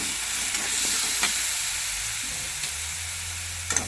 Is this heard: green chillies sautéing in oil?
yes